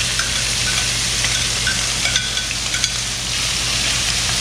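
Squirrel meat is hard-fried in a pan, with a steady, moderately loud sizzle and spatter and a few sharper pops and clinks, heard alone without talk.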